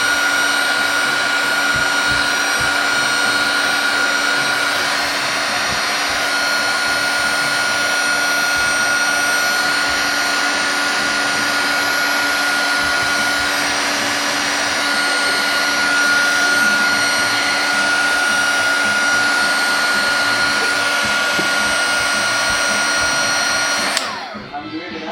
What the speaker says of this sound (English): the same heat gun you use like to shrink tubing